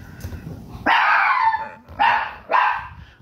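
A dog barks and howls close by in three loud, drawn-out yelping cries, separated by brief pauses, with no talking.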